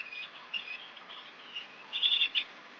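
Chestnut-headed bee-eater calling in open forest or farmland, a few high thin chirps, the loudest cluster near the end, fairly clear over a quiet background.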